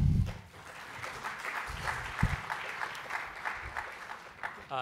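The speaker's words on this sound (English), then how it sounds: "So a big round of applause for our next panel." Audience applause for a panel at an economics policy forum on debt and tax reform, steady mid-level clapping from a seated crowd that runs the whole length, with a few heavier thumps near the beginning.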